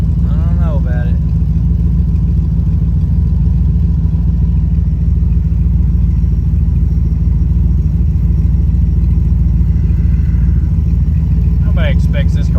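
A Ford Fairmont's engine runs steadily nearby, giving a loud, continuous low rumble as it idles, while people talk over it.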